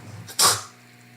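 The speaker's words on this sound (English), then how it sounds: "Sneezing up a storm." A single sharp human sneeze bursts out near the microphone, with a short intake before it, then fades into a quiet room with faint electrical hum.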